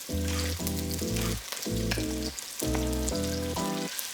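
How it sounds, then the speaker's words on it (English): Shrimp frying with garlic and onion in a pan, a continuous close sizzle running beneath a louder, steady sequence of sustained tonal notes. "And now add shrimp."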